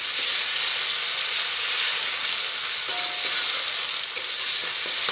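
Sliced onion frying in oil with black cumin seeds in a pan, a steady close hiss with light occasional stirring clicks and no talk.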